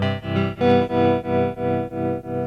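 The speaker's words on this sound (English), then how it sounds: "You can hear the amplifier turning up and down." A tone through a Moogerfooger tremolo swells and fades in smooth, even pulses as a sine wave modulates its volume, about seven rounded beats in a few seconds, loud and alone.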